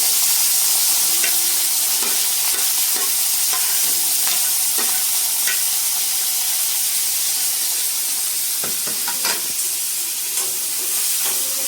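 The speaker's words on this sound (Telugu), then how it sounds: "ఆయిల్ వేడెక్కిందండి. ఇప్పుడు నేను ఆనియన్ యాడ్ చేసేస్తున్నాను." Chopped onion fries in heated oil, producing a continuous close sizzle and hiss with scattered crackles and stirring clicks, loud and steady throughout with no talking.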